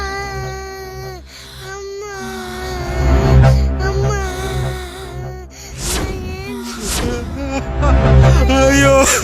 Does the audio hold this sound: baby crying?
yes